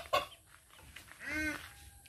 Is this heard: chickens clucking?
yes